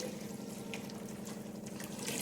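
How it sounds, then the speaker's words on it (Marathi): Hot water streams steadily into a pot of rice kheer with raisins, sugar and coconut, a continuous soft pouring splash heard close and alone. "आता वरून आम्ही गरम पाणी सोडणार आहोत"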